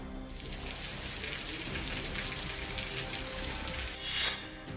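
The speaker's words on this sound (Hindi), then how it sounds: "झारखंड में झमाझम बारिश।" Heavy monsoon rain pours down in Jharkhand, a dense continuous hiss of falling water, steady and enveloping, with a brief shift in texture near the end.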